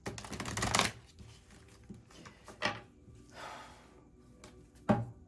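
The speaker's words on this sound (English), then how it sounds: "I don't know why Spirit wanted me to shuffle this one more time." A deck of tarot cards is shuffled in close, crisp riffling bursts, one long run at the start and shorter ones later, with quiet gaps between.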